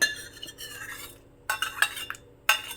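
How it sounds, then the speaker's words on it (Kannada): Cooked lentils go into a pot for Mysore-style huli, with a metal spoon scraping and clinking against the vessel in three short bursts separated by quiet pauses, close up. "ನೋಡಿ, ಇವಾಗ ಬೇಯಿಸಿರೋ ಬೇಳೆನೂ ಸಹ ನಾನು ಹಾಕ್ತಾಯಿದ್ದೀನಿ"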